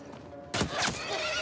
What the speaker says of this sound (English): The horse! Shoot the fucking horse!